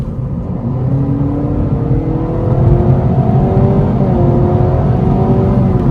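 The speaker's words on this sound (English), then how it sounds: "we'll do another pull in sport mode so you can hear that engine noise" A 2025 Honda Civic RS e:HEV hybrid accelerates hard in sport mode, its engine note heard from inside the car as a steady rising drone with climbing tones over road rumble, loud and continuous.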